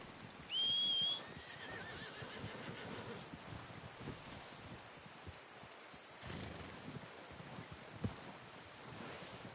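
A horse in Red Dead Redemption 2 gives a short, clear whinny near the start over a soft outdoor bed of wind and rustling leaves, followed by faint shuffling and hoof movement.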